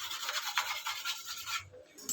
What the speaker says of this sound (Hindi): ये या तो आप ब्रश से साफ कर लीजिए इसे, जो दांतों वाला ब्रश होता है इस तरह का